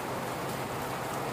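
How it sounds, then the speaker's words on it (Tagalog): Steady rain pours outside a dormitory, a dense, even hiss of drops on surfaces that continues without a break for the whole stretch. "Umulan na naman po."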